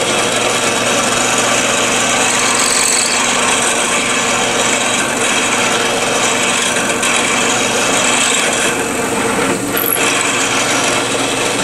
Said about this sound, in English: when I want to make a hole that's about an inch and a half into my piece of wood